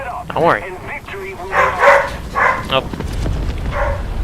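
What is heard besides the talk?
dogs barking in the room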